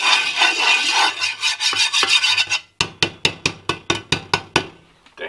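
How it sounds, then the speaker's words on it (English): Harsh, close scraping of a wire scraper across a granite-coated nonstick pan, first in fast overlapping strokes, then in about ten distinct, evenly spaced rasping passes. "We're just going to use metal utensils. Yeah, the same wire scraper we used the other night."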